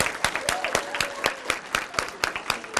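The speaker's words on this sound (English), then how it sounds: "we give you ultimate applause" Audience at a school mock trial competition claps in an evenly spaced rhythm, sharp distinct claps ringing in a hall, with faint murmuring voices underneath.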